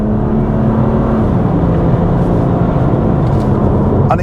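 Car in sport automatic mode accelerating under kickdown, its engine droning loud and steady with a rising tone as gears are held longer, heard from inside the cabin.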